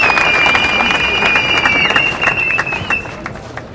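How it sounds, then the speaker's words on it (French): An audience applauds and cheers for the first speaker at a UDPS political training gathering, a steady dense wash of clapping and crowd noise with a sustained whistle-like tone running through it. "On acclame très fort pour le premier intervenant."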